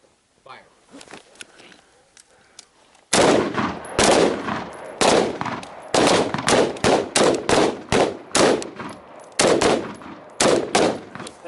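Rifle gunfire at a night shooting drill: after a few quiet shuffles, a rapid string of loud, close shots rings out in uneven bursts and doubles, each with a short echoing tail, with voices faintly underneath.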